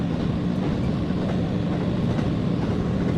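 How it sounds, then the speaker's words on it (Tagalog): A train in northern Tokyo heading toward Ashikaga Flower Park, heard from on board as a loud, steady low rumble with constant rolling noise and faint rhythmic rail clatter. "Train."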